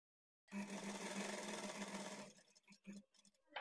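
A sewing machine stitches a blouse side seam along a marked line in one smooth whirring run of under two seconds, then falls to a few faint clicks and taps.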